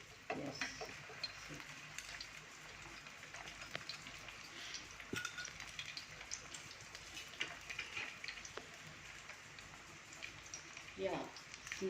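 Patties fry slowly on a low gas flame, a faint continuous sizzle with small pops and scrapes while people talk over it.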